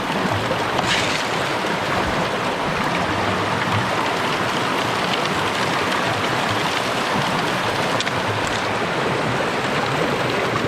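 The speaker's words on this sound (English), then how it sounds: "I just love the sound of the rocks going down the sluice run" Rocks and dirt tumbling down a gold sluice run with flowing water, a steady, dense, broadband rushing and rattling that holds constant and close throughout, with a few brief sharper clatters, no voices.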